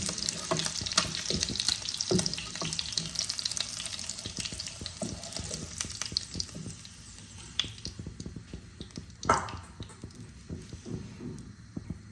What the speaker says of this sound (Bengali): এবার আমি ওই তেলে দুটো তিনটে তেজপাতা দিয়ে দিলাম। গোটা জিরে ফোড়নে দিয়ে দিলাম।